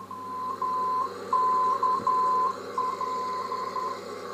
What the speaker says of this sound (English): which will only give me Morse code of the VOR1.